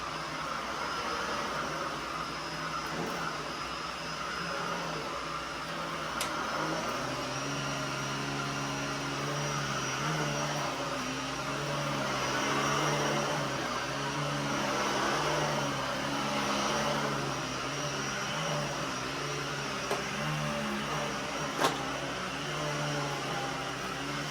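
A Miele Triflex HX1 Pro bagless vacuum cleaner runs steadily on its second speed, a continuous whirring motor hum with a broad airy hiss, close and fairly loud.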